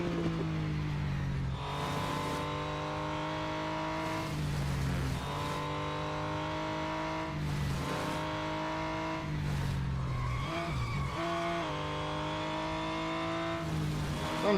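Racing car in the Real Racing 3 game engine droning steadily through a cup race, with repeated broadband bursts of tire squeal and skidding over the constant motor tone, no talking.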